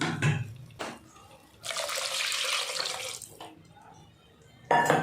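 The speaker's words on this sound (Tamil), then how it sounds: "இப்போ தேவையான அளவுக்கு தண்ணி சேர்த்துக்கலாம்." Water poured into a pot of sambar with drumstick and ground sambar powder in a home kitchen, a steady splashing pour lasting a couple of seconds between quieter clatter.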